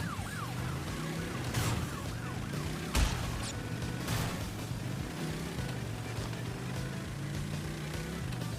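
A police car siren in Crash Bandicoot N. Sane Trilogy wails in rising and falling sweeps over a steady game engine drone, with a couple of sharp impacts mixed in.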